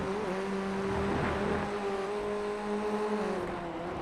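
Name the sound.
Formula Ford 1600 race car passing at Watkins Glen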